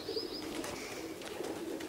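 Racing homing pigeons return to a loft in Toruń after a race from Strasbourg, with soft cooing and faint chirps against a quiet outdoor background.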